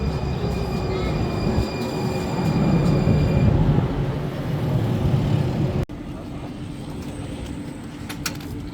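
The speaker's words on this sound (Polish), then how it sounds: "I właśnie nadjeżdża nasz tramwaj" A line 3 tram in Alicante, Spain rumbles in with steady rolling noise and faint squeals, then the sound cuts to a quieter hum at the stop.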